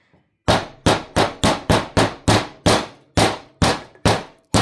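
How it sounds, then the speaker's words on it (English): Mallet pounding on a part of a homemade fluid bed, twelve sharp, loud blows at a steady rhythm of roughly three per second, each hit ringing briefly before the next, with no talking. "I beat it a lot with the hammer, with the mallet thing."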